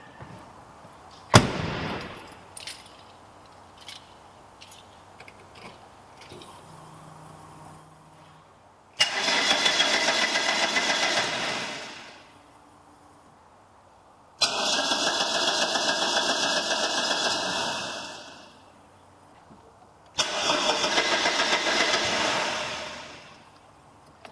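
A 1988 HSV Astra SV1800 car engine is started after a few clicks and knocks, then runs in three loud, steady bursts of a few seconds each that rise and fall away, with quiet gaps in between.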